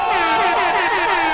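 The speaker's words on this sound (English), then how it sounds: "push the air horn" An air horn is set off with a push button and gives one loud, steady, harmonic blast that lasts the whole moment. It is close and sounds alone, with no talking.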